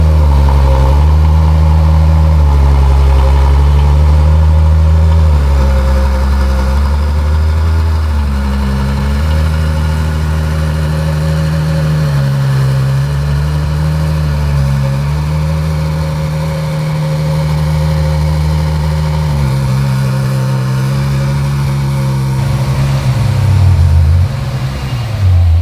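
A Ferrari F12 TDF idles steadily up close, its low, even engine rumble holding for the whole stretch with slight swells and a brief lift near the end.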